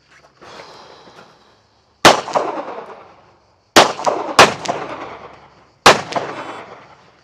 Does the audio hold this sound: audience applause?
no